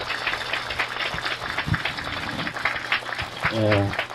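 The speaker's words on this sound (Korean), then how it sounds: "뜨거운 박수를 보내시도록 하겠습니다" Audience applause at a Catholic Mass for life and peace, moderate, scattered clapping from a congregation with voices and room noise mixed in, plus a brief held tone near the end.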